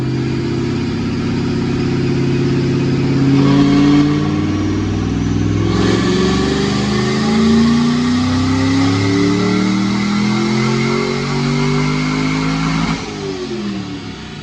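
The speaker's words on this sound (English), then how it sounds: "Check out this dyno pull." A supercharged 2010 Ford Mustang GT with a Vortech intercooled supercharger, cams and headers roars loudly on a dyno, its engine note climbing steadily through a long pull before cutting off abruptly near the end.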